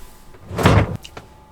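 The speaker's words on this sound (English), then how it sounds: "when you sit down on this toilet, that blue privacy door is going to open" Blue privacy door of a composting toilet in a 34x10 tiny house on wheels opening automatically when someone sits: a single loud sliding whoosh of under half a second, ending in a sharp stop followed by a few small clicks.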